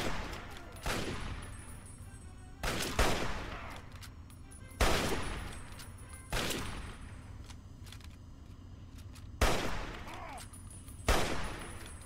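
Gunshots in Fallout 3, six loud single shots spaced roughly two seconds apart, each with a short echoing tail over a low ambient background.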